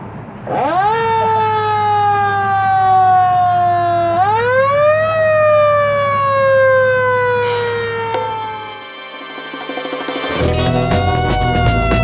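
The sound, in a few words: vintage police car siren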